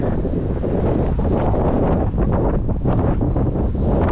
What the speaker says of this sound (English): getting windy too out here on Cemetery Sunday